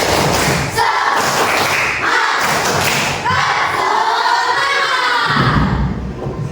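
A class of schoolchildren in an Islamic religious education lesson performs the rhythmic 'tepuk semangat' spirit clap, with loud patterned claps and thumps mixed with children's shouting voices close by.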